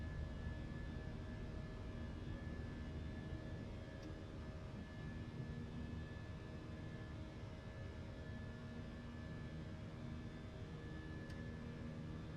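Airliner engines at climb thrust after takeoff from Denver, a steady broadband roar with a constant whine, heard continuously from inside the cabin with no pauses.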